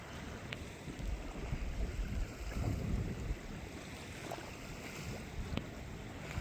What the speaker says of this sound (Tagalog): ito ay yung sound na mahangin, sobrang mahangin